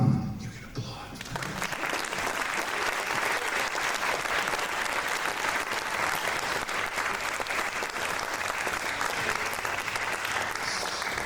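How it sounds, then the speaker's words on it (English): A high school auditorium audience applauds a concert orchestra at a spring finale concert, a brief voice giving way to sustained, even clapping from many hands that continues strongly for around ten seconds. "So nice job, concert orchestra. You can applaud."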